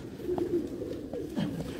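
Heera Laal breed pigeons from a loft coo in soft, low throaty phrases, a few separate coos rising and falling close by over a faint background.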